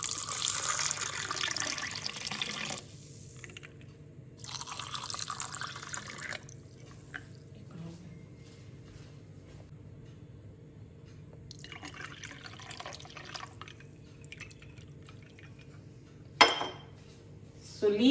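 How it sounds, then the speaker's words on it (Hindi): Chilled water is poured into a glass of shikanji with fresh mint leaves, giving bursts of splashing, trickling liquid with a few clinks of glass, faint and near, with some quiet talking. "ऊपर से हम डालेंगे चिल्ड वाटर"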